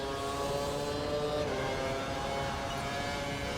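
Formula 1 race car engine in a video game at the Montreal circuit, a steady loud whine with rich harmonics held throughout, no voices.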